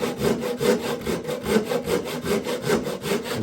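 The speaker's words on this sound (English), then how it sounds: "with these Japanese saws, you can relax and just let the blade do the work." A Japanese hand saw cuts a kerf in wood with steady, rhythmic rasping push-pull strokes, close and fairly loud, roughly two strokes per second with no talking.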